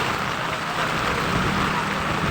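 Heavy typhoon rain pours down in a loud, dense, continuous roar with no pauses, close and enveloping.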